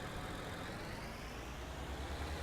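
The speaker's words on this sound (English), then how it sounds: "Jump into this nice tractor that we have." A tractor engine runs in Farming Simulator 19, a steady broadband motor drone with a low rumble, constant in loudness and heard alone without talk.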